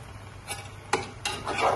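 Chicken pieces frying in a pot for biryani: a brief, quiet stretch of sizzling broken by a few stirring scrapes.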